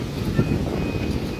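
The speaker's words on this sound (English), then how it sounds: "it's very windy. Very windy." Steady wind buffets the microphone with a low, rumbling roar throughout, broken by a brief louder gust, at a Malay night market in Taman Megah as rain begins.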